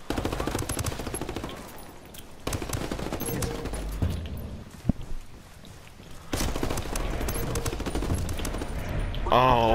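Rapid machine gun bursts in a shooter video game, dense crackling volleys that come and go in waves with a quieter stretch midway, players talking over the gunfire.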